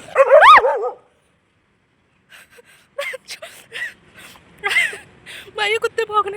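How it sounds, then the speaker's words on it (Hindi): Dogs bark outdoors near a college: one sharp yelp, a pause, then a scattered run of barks and yips at moderate distance, mixed with light talk. "भाई कुत्ते भौंकने लगे मुझे देख के अपने आप ही"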